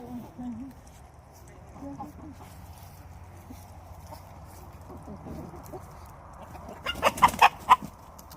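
Chickens cluck in the background on a farm while people talk, with a louder burst of clucking near the end.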